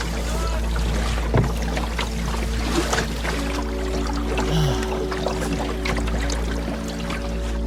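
Wanda, a small sailboat tender, sails under canvas on the sea off Unatak, Greenland, with water sloshing and trickling along the hull over a low steady rumble and occasional creaks.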